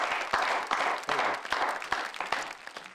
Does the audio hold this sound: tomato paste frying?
no